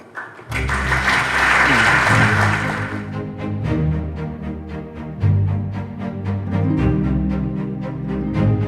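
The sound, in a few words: audience applause at design competition ceremony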